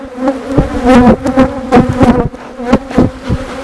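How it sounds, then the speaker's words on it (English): Angry honeybees buzzing loudly and close at an open, aggressive hive during an inspection, a dense continuous drone with individual bees zipping past the microphone. "Hive number 6 continues to be my most furious hive that I have."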